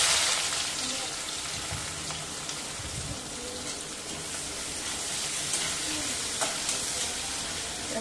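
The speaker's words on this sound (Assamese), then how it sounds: "মোৰ কেৰাহী গৰম হৈ গ'ল। এয়া পিঁয়াজ দিছোঁ।" Onions sizzling and crackling steadily in a hot wok, a dense continuous fry with occasional stirring scrapes.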